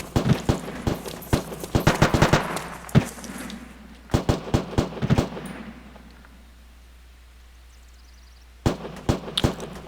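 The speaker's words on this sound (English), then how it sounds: "the firing's picked back up again" Rapid gunfire in the survival game Daizy Factions, sharp cracks in quick clusters up front, a second volley around four seconds, then a quiet gap before more shots close it out, no talking.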